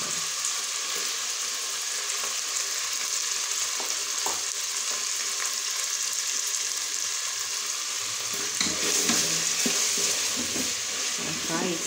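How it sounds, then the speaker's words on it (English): Spinach stew ingredients with added pepper fry in a pan, giving a steady broadband sizzle throughout with scraping stirring sounds that grow busier near the end; no talking. "I'll fry it a little bit"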